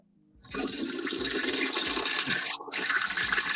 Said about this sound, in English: That's the toilet flush.